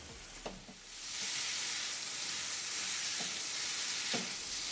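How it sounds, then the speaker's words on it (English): Paneer tikka sizzles loudly in a hot pan, a steady bright hiss with a few clattering stirs and scrapes, close by and with no talking. "Our paneer tikka is sizzling and smoking hot."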